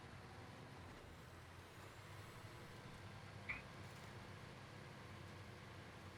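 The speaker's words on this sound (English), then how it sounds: "I do enjoy the engine sounds on this truck" A heavy twin-steer truck in Snowrunner idles and grinds along, its engine a low, faint rumble running continuously under the noise, with a brief sharp hiss or clank midway.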